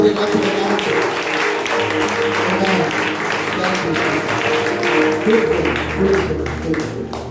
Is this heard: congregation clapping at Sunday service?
yes